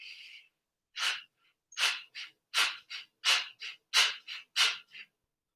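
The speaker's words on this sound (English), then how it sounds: "really force the exhales out, short and jagged" Short, forceful exhales in a yoga breathing exercise, about a dozen sharp breathy bursts in an uneven, jagged rhythm after one initial breath, close and clear with no talking.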